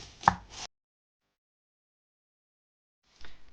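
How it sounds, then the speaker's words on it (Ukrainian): A knife slicing onion thinly into half rings on a board, heard as one close chop followed by silence, then a fainter second cut near the end. "Наріжу півкільцями якомога тонше."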